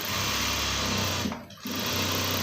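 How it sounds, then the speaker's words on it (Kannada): A sewing machine runs a continuous fast whir as it stitches a ready-made top for body fitting. The hum stays close and steady, dips briefly for a moment, then picks up again, with no voices. "ಹಾಗೆ ಕಂಟಿನ್ಯೂ ಮಾಡಿ ಒಂದು ಸ್ಟಿಚ್ಚನ್ನು ಫುಲ್ಲು ಎಂಡಿಂಗ್ ತನಕ ತಂದುಬಿಡೋಣ."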